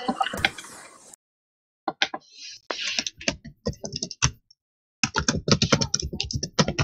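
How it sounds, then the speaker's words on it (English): Someone types on a computer keyboard in bursts of rapid clicking keystrokes with short pauses, close and fairly loud, and a voice talks briefly at the start. "Oh, we can hear Benny's keyboard."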